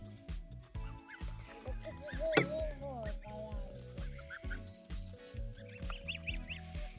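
Young goslings cheeping and peeping in a busy chorus of high, thin calls, close by, over low rhythmic background noise and occasional faint voices.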